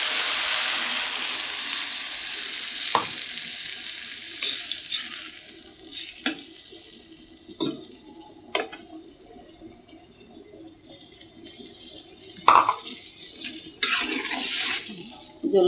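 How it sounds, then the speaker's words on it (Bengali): Water is poured into a pan of fried eggplant curry, and a hissing sizzle rises over the running liquid. Sharp clinks and scrapes of a utensil come through at intervals. "এখন দিয়ে দিব ঝোলের পানি।"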